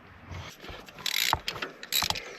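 A ratchet wrench cranks spark plugs tight in a tractor engine, giving a few bursts of rapid metallic clicking close by, with short pauses between strokes.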